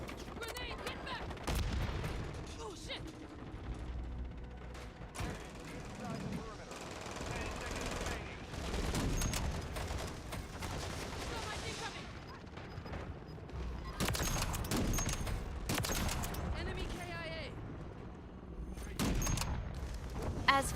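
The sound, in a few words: sniper rifle gunfire in Call of Duty video game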